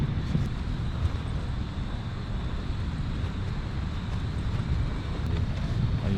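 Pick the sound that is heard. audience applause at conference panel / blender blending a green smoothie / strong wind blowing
strong wind blowing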